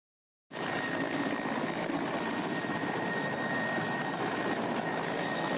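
A steady, loud roar of an aircraft engine starts abruptly and holds constant, like a helicopter heard from inside the cabin.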